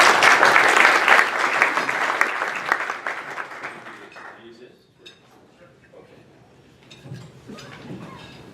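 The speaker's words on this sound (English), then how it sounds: "please join me, a warm round of applause here" An audience at an investor conference applauds warmly, loud dense clapping that fades out over several seconds, followed by faint scattered claps and a speaking voice.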